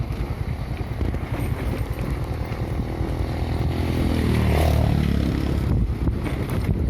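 A motorcycle rides downhill on a rough village road while braking, its engine droning steadily and loud with heavy wind buffeting the microphone throughout.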